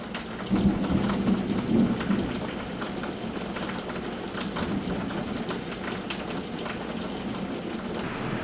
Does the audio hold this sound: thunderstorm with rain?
yes